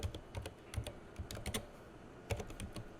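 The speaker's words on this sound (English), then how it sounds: "we're just going to type in our OpenLDAP" Brief bursts of keys clacking on a computer keyboard, quick irregular strokes close by and moderately quiet, with no talking.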